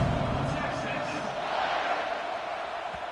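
A stadium crowd roars in a college football video game, a dense, continuous wash of cheering with an announcer-style voice talking over it.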